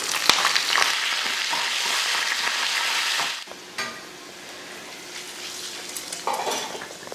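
Mustard seeds, chana dal, green chili, ginger and curry leaves fry in hot oil with a loud, steady crackling sizzle, then a stir breaks it and a softer sizzle carries on with light utensil scrapes.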